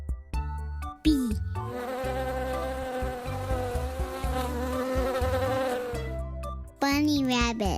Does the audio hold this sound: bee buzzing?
yes